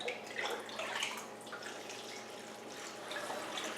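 Water drips and trickles as orchids are watered indoors, a soft irregular patter of drops over a faint steady run of water, no voices.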